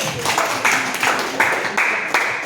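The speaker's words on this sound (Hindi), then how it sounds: "राइट आंसर, ताली बजाओ भाई साहब" At a school sports quiz competition, an audience claps in short, rhythmic bursts to reward a correct answer, about six loud, evenly spaced rounds of applause with some voices mixed in.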